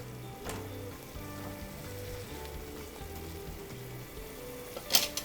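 Bronze-die spaghetti simmering over high heat in a butter and white wine sauce: a steady, close bubbling sizzle with a low hum beneath it, and a brief clatter near the end.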